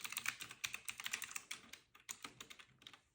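Fingers type on an LED gaming typewriter-style keyboard, producing quick, crisp clicky keystrokes in uneven bursts with short pauses, close and fairly quiet.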